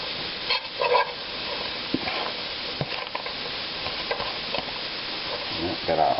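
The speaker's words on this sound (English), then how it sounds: "I'll saute a little onion." Onion sautéing in a large saucepan, a steady sizzle with occasional stirring scrapes and clinks, close and continuous.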